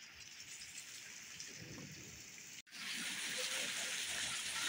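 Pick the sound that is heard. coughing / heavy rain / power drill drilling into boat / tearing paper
heavy rain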